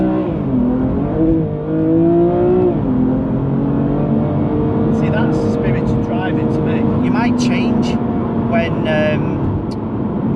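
A BMW M2 Competition pulls away, its engine note climbing steadily and stepping up through the gears, with someone talking over the engine throughout.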